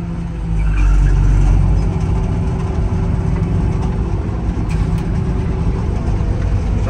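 The threshing machinery of a Claas Dominator 58 Special combine harvester, imported from Germany, runs at a loud, continuous mechanical roar that swells in the first second and then holds steady.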